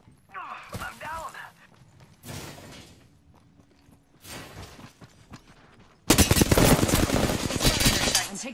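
Gunfire in the battle royale game Apex Legends, including a Wingman or DMR, arrives in scattered bursts between quieter stretches, then swells into a loud, dense barrage over the final seconds, with a voice talking during the earlier part.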